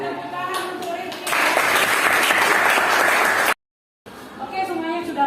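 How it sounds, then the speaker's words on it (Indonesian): A classroom of students breaks into loud, dense applause for a classmate after his physics presentation on optics, rising after a moment of chatter, then cutting off abruptly before voices resume. "tepuk tangan untuk Rifki"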